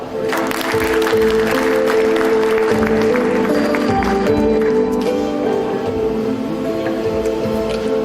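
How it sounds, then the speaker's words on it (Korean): Sustained audience applause for professors at a 40th-anniversary event of an architecture department, dense even clapping that holds steady for the whole stretch with little talk over it. "박수 소리가 많이 나오시는 분들"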